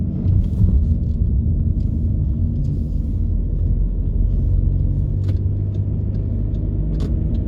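Steady low rumble of a car driving slowly along the streets of Proszowice, Poland, with constant engine and tire noise throughout and faint clicks and rattles on top.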